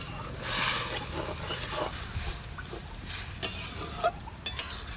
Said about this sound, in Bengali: এবার জিরে বাটাটা দিয়ে দিচ্ছি। আস্তে আস্তে নাড়া দিচ্ছি।